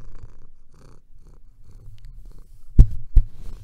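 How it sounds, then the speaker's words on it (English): Soft, low rumbling cat purr running steadily through the clip, close by, with two brief louder thumps or bumps near the end. "So if you hear purring or the occasional meow or anything like that"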